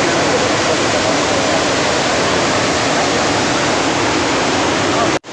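Dhuandhar waterfall at Bhedaghat near Jabalpur roars nearby in a loud, steady, unbroken wash of rushing water that cuts off abruptly at the end.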